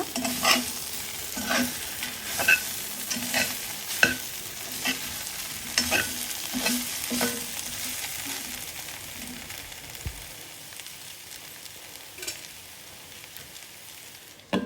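Chicken and coconut pieces fry in a pan, a continuous sizzle overlaid with a steady rhythm of spatula stirring strokes scraping the pan, close and fairly loud, easing to plain sizzling near the end.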